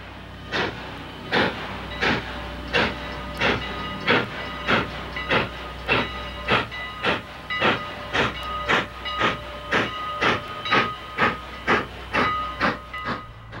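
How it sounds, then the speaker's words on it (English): Strasburg Rail Road steam locomotive number 89 pulls away from a stop with its train, sharp rhythmic steam chuffs that quicken steadily over a low rumble, fairly close. "Pulling away from the stop at Groff's, number 89 sways and rocks with the effort of starting her train."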